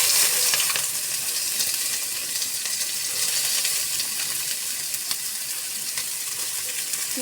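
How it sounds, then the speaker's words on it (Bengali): Steady, close sizzling of onion frying in hot oil, with occasional scraping and clinks of a spoon stirring in the pan. "পেঁয়াজটা সুন্দরভাবে বাদামি করে ভাজতে হবে"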